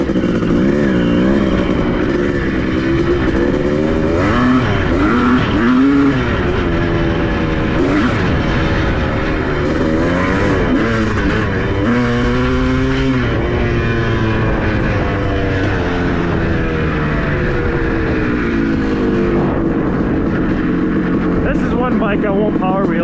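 A 1984 Honda CR500 two-stroke motorcycle engine, just revived after sitting for decades, revs up and down repeatedly, loud and close, its pitch sweeping high and falling back throughout.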